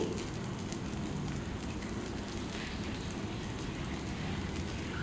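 Rice dosa sizzling on a pan over a medium flame, a steady soft crackle and hiss throughout, fairly quiet and even with no talk.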